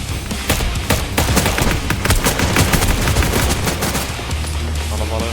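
Rapid, loud bursts of automatic gunfire in the Star Atlas video game come in dense, continuous volleys, with a faint voice underneath.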